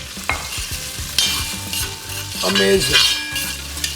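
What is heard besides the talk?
whole spices frying in a pan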